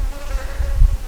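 A swarm colony of honey bees buzzing at its hive box, a steady close drone with low wingbeat rumble and no voices.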